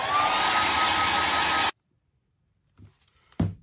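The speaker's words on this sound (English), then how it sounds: "I'm going to hit this with the hairdryer here for a few more seconds." A hair dryer blows steadily and loudly for under two seconds, used to dry cotton and latex makeup effects, then cuts off abruptly, leaving near silence with a couple of faint handling sounds.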